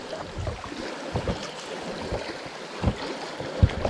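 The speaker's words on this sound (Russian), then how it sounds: "бурлилочка, здесь каменный перекат" River water babbling and splashing over a rocky riffle, a steady close rush with irregular louder gurgles and no voices.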